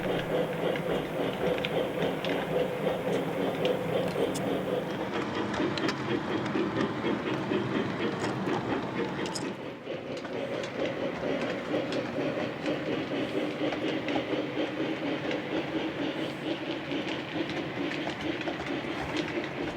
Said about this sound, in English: the train goes through another tunnel and behind a little scenery